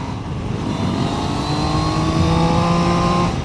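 A Triumph Trident 800 three-cylinder motorcycle engine pulls hard under acceleration, a loud, steady, rising drone with climbing harmonics and rushing wind, close and continuous throughout.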